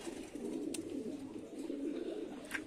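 Male pigeons cooing softly and steadily, a low continuous burbling that stays close and quiet, with no talk.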